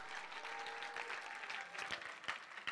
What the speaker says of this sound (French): On peut-tu applaudir Isabelle et son groupe?